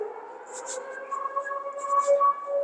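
Air raid siren wailing over Stamboul Park in Odesa, a steady distant tone under light chatter and ambient noise.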